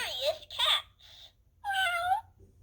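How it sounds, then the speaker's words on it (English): A recorded cat meow from an interactive children's button sound book, a couple of short bright mews followed by a longer meow, heard close and clean alone. "Zoe finds three curious cats."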